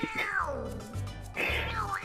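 A cartoonish cat from the Type:Rider video game lets out two drawn-out, sliding meows, loud and close, over a low droning game soundtrack.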